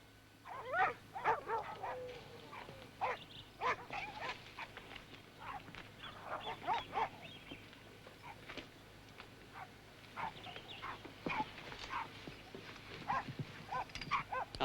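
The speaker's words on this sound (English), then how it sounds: "They're barking at you." Several dogs bark in irregular bursts, some loud and close, others farther off, over a quiet background hum.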